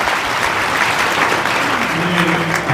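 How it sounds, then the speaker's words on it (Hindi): Applause welcoming schoolchildren at a village cowshed cultural program, a dense crowd clapping steadily throughout, with a brief voice or tone emerging near the end. "सभी को एक बार ताली बजा के स्वागत कर दीजिए"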